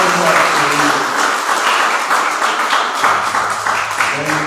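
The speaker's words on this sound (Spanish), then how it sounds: "Denle un aplauso al Señor." A church congregation breaks into applause during a sermon, a full close burst of many hands clapping, joined toward the end by a faint sustained tone underneath.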